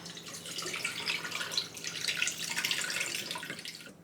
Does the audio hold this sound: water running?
yes